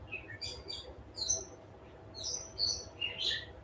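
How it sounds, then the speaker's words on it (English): Several birds chirp and tweet in short bursts on a spring day in Coral Gables, Florida, their high calls clear over a low background hum, with no talking. "Some happy birds over at the Miller household today."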